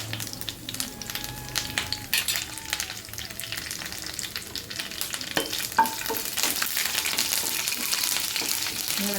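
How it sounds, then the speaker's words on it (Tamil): Mustard seeds and fenugreek tempering in hot oil in a kadai while okra kara kuzhambu is prepared, a steady close crackling sizzle with scattered pops and stirring scrapes that grows slightly denser toward the end, with no talk. "இதே கடாயில் நம்ம தாளிச்சிடுவோம் கடுகு வெந்தயம்"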